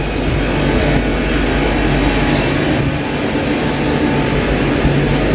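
A train at Queen's Park station in London gives off a steady, close rumble of wheels and engine noise, broadband and unbroken, with no talk.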